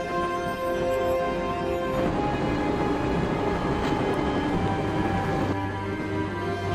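A train rumbles steadily in the Broken Sword: The Shadow of the Templars Director's Cut video game, with a continuous, dense rolling drone and no voices throughout.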